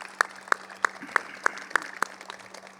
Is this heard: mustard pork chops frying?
no